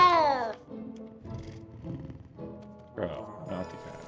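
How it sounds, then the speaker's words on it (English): A cat in the video game Hogwarts Legacy meows while being petted: one long, loud, falling meow, then several softer, shorter mews over a steady game background. "Pet your cat."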